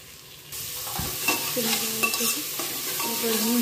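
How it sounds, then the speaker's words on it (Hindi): Garlic frying in a pan while being stirred, a close, constant sizzle broken by repeated scraping and clinking strokes of a spoon against the pan, with no talking. "इसमें लहसुन डालते हैं वो भी भून जाए।"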